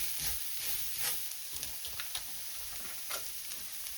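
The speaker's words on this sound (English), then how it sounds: "This is hot and sizzling now." Food seasoned with salt, pepper and garlic powder sizzling in a hot pan, a faint, steady hiss with light ticking crackles throughout.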